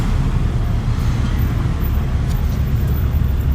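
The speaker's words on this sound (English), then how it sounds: "We're driving, I like when we're driving exactly like the police car would too." A 1962 Ford Galaxie police car cruises along, a steady broad rush of engine and road noise filling the cabin without pause.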